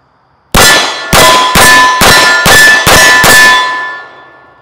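A Ruger 1911 pistol fires seven rounds at a steel target, each hit giving a loud ringing clang in a quick, slightly uneven rhythm, the last ring decaying slowly.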